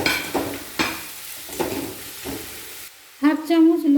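Grated beet and carrot being stirred in a frying pan, giving soft sizzling with a few scraping strokes, a short pause, then a brighter sharp hiss near the end, close by and with no talk.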